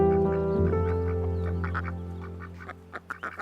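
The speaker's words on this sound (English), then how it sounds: "Ducks, as well as other birds, land and take off again" Ducks quack in a short, close burst of calls over a steady low hum, out on wintering wetlands along the Danube.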